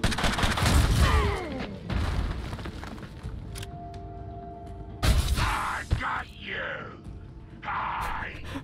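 Heavy booming blasts in the Mutant Year Zero video game, one loud burst at the start and another sharp one around the middle, separated by quieter game hum and a tonal drone.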